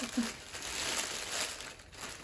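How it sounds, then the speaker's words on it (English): Plastic wrapping on an OHM Beads Studio 2 Go kit crinkles and rustles up close during unboxing, a steady soft crumpling with a brief voice-like sound at the start. "I'm like talking while I'm crinkling, so I'll unwrap it then talk."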